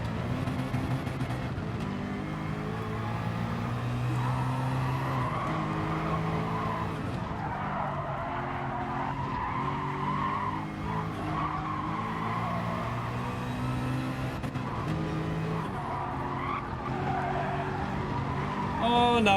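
Race car tyres squeal and skid repeatedly in GT Sport racing at Le Mans, sliding screeches layered over a steady engine drone, with a person talking at times.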